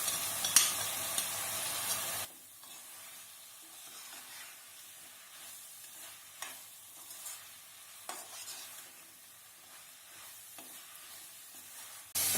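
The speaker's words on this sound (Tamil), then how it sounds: "இதெல்லாம் போட்டு வணக்கிட்டு ஒரு 10 நிமிஷம் அப்படியே நல்லா வணக்கிட்டு இருந்தோம்னா பச்சை வாசமெல்லாம் போயிடும்" Masala being sautéed in a pan for Tamil Nadu-style mushroom biryani, with a brief louder burst of stirring and sizzling at the start, then a soft, steady frying hiss with light scrapes of stirring throughout.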